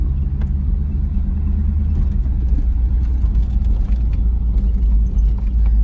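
A brand new Chevrolet Camaro's engine rumbles low and steady from inside the car while driving, a constant deep drone with faint rattles and no talk over it.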